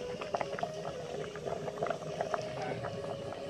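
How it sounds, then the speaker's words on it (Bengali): A pot of rice boils steadily, a close bubbling burble with small popping blips over a constant low rush, no voices present. "আর এই দেখো, আমার ভাতের উতাল চলে এসেছে।"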